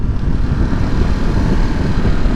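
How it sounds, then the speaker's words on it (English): Ducati Multistrada V2S motorcycle engine roaring loudly and steadily, a dense continuous rumble with no talk over it. "The noise this thing makes, I think that's the best sounding and best looking bike I've ever been on."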